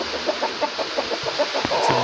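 Chickens sheltering in a shed from the rain cluck in a quick, regular series of short calls, moderately close against a steady background hiss of rainfall.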